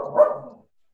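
Dogs bark once in a short muffled burst nearby, fading out within about half a second and leaving silence.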